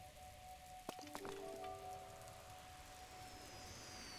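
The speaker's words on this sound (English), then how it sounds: "Raining." Rain falls softly in Zelda: Breath of the Wild, a faint even patter under a few chiming game tones and a short clatter near the start, quiet and without speech.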